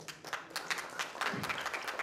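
A theatre audience applauding at the end of a play, a brief burst of dense, steady clapping from many hands, moderately loud and without a break.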